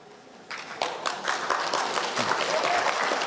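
An audience at an event in Dubai breaks into applause, starting thinly with a few claps and swelling into steady, dense clapping that fills the room.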